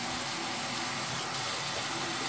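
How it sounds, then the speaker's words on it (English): Water gushes steadily from a tap into a sink, a close, loud, constant rush with no voices. "I'm going to turn the water on, might get kind of loud."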